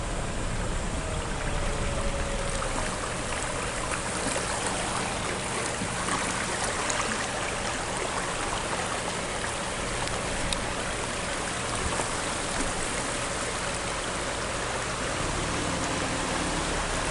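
Floodwater rushing down a creek during the 2022 Eastern Kentucky flood, a loud dense unbroken roar of turbulent water, steady and close throughout with no voices.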